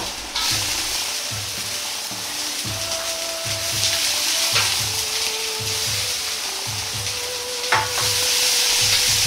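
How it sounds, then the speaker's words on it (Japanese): Carrot, ginger, bean sprouts and wood ear mushrooms stir-fried in a wok over high heat, with a loud steady sizzle, rhythmic scraping and tossing, and occasional sharp clatters from the pan. "人参、生姜、もやし、きくらげの順に入れ、"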